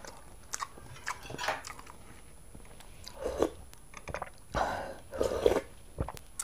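Mukbang-style eating with a woman biting and chewing food, soft crunchy bites and chewing sounds coming in irregular bursts up close, no talk.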